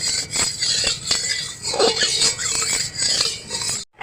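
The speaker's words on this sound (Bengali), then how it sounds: "একটু নাড়াচাড়া করে নেব।" Ghee stirred in a hot kadai for carrot halwa, giving intermittent soft scraping and light metallic clinks of a spoon against the pan, close and fairly quiet, with a brief silence near the end.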